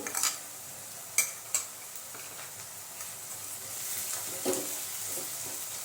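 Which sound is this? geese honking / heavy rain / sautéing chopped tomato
sautéing chopped tomato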